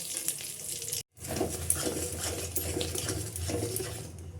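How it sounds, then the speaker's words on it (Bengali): Bay leaf, dried red chilli and whole spices sizzle in hot oil, a dense crackling fry broken by a short silent gap near the start, then a steady loud spitting to the end. "এবারে এই তেলের মধ্যে আমি তেজপাতা, ফোড়ন, শুকনো লঙ্কা দিয়ে দেবো"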